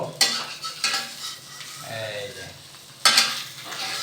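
Egg fried with shredded cabbage sizzles steadily in a pan, broken by a few sharp scraping bursts as a spatula works under it and flips it over, close and fairly loud.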